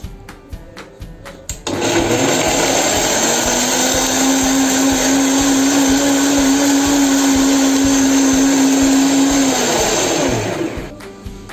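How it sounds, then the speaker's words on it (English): A kitchen blender purees pepper, crayfish and onion, its motor roaring loud and steady for about eight seconds before winding down. "Cover and blend for just 30 seconds."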